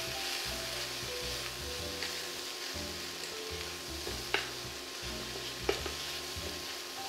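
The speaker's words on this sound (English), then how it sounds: "Some pepper. Saute for a couple of minutes." Onions and spices with pepper sautéing for a Moroccan lentil pilaf, a steady soft sizzle and hiss with occasional sharper crackles and stir clatters, faint and close, with low tones running underneath.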